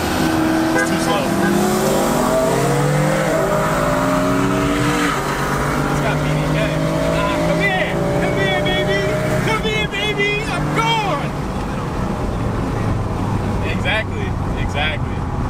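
A BMW F82 M4 with an EcuTek tune revs hard on a dyno, its engine note climbing and sweeping through the range in loud, sustained pulls while people talk over it.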